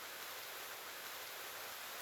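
Rain falling steadily outdoors, a dense, even hiss that stays constant throughout without talk.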